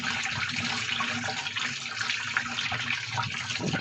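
Water flows steadily into a small garden pond, a continuous close splashing trickle that holds even from start to finish with no pauses.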